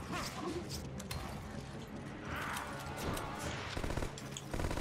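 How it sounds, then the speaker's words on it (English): Enemy gunfire in Resident Evil 5 crackles in dense, repeated bursts through a busy game mix, with sharp shots scattered across the whole stretch and a heavier cluster near the end. "Now they get to shoot guns at me too?"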